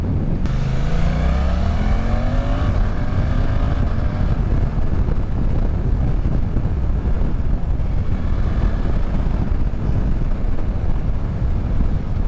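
A Suzuki GSX-8S motorcycle engine drones continuously under heavy wind rush while being ridden, with a brief rising rev at the start settling into a steady roar.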